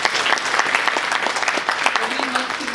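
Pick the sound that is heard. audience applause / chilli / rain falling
audience applause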